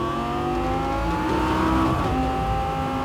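Lamborghini supercar accelerating hard with a loud, rising engine roar that sweeps upward through the gears, close and continuous, with no speech.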